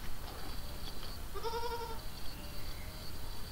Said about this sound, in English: Goat. Goat.